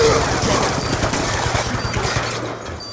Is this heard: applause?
no